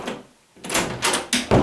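A door is pushed hard to shut and latches with a click, several sharp closely spaced knocks and a click following a short quiet moment, close by and moderately loud with no talking.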